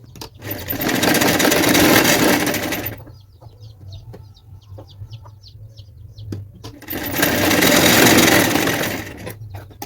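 A sewing machine runs in two long, loud bursts while stitching the shoulder joint of a plain blouse, with a quieter pause of small clicks and fabric handling between them.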